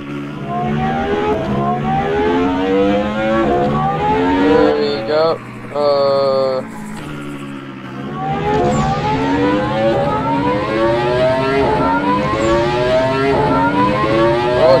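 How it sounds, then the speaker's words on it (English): Lamborghini engine in Roblox Vehicle Simulator, a loud, continuous synthetic engine drone with rising, repeating gear-shift sweeps and a brief dip midway, steady throughout. "It's too loud, guys, it's too loud. This Lambo's too loud."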